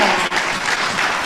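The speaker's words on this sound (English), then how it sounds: "Can we thank you and give you a round of applause?" A conference audience at a women's fall gathering breaks into a round of applause, dense and steady clapping from many hands that stays loud and close throughout, with no voice over it.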